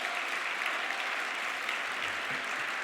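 A conference audience gives sustained applause for an honored champion, a dense even wash of clapping heard at moderate distance with no talk over it.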